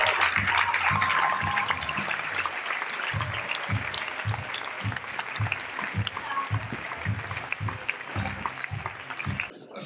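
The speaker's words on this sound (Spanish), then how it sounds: "¡Un aplauso para Cristina Pedroche!" An audience claps steadily for Cristina Pedroche at a YouTube 10th-anniversary party with elrubiusOMG, with the applause fading gradually while rhythmic bass-heavy music pulses underneath.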